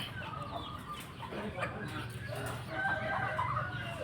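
Hens and chicks cluck at a farm in Thailand while a rooster crows, a busy, steady mix of fowl calls layered together with no talking.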